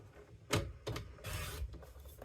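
A paper cutter slices through cardstock being trimmed for greeting cards, giving a few short, close rasping cuts and scrapes with brief pauses between them and no talk.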